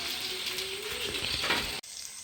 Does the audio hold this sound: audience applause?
no